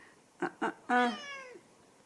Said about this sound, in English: The cat's looking out the window.